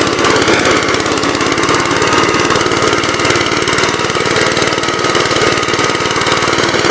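A 1969 Gravely C8 garden tractor engine chugs steadily up close with a fast, even putter and a rough mechanical rattle, running without a break.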